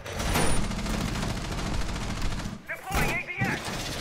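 Shotgun blasts and rapid gunfire in the tactical shooter game Rainbow Six Siege, loud and dense throughout with a few sharper bursts near the end, under faint talk.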